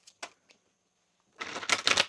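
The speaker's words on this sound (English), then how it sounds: "One more shuffle" Tarot cards are shuffled by hand: a couple of soft isolated flicks, a pause, then a dense riffling flurry of papery slaps close to the microphone.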